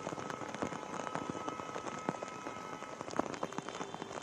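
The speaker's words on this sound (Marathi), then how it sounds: "काल रात्रीपासूनच खरं तर पावसाचा हा जोर वाढलेला आहे" Heavy rain pours down on the streets of Mumbai's Churchgate area, a dense, continuous patter of drops hitting surfaces with scattered louder splashes and no voices.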